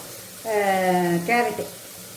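Tomatoes and green chillies fry in a pan with a steady, even sizzle, while a voice talks over it.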